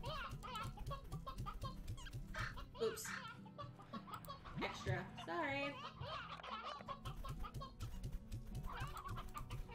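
Chickens cluck in the Slime Rancher video game, a busy flock of fowl chattering continuously under a person's talking and giggling.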